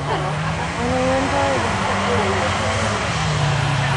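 A 1990 Geo Tracker does a tire burnout at a burnout contest, its engine holding a loud, steady high-revving roar with a rising whine partway through, under crowd noise and talk.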